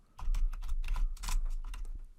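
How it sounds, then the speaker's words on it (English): Keys clatter on a computer keyboard as a single line of Python code is typed, a quick, close run of distinct taps with brief pauses between bursts and no talking. "So I'll start off by simply typing myVar equals 42."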